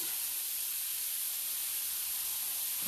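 Onion and garlic sizzle in a hot wok, a steady bright hiss that stays even and close from start to finish with no talking.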